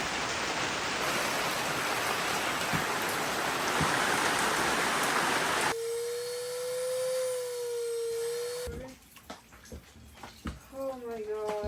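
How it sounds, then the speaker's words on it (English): Heavy rain pours down steadily at a homestead under construction, a dense hiss that stops abruptly partway through, followed by a steady tone and then someone talking. "thankfully the rain has slacked off, so this is just what's over in there"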